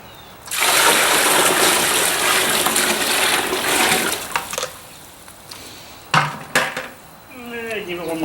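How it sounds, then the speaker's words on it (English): Water is poured into a container of brain-tanning solution for buckskin and stirred in. A loud, sustained rushing splash is followed by quieter sloshing and clinks of mixing, with a brief faint voice near the end. "Add a little more water."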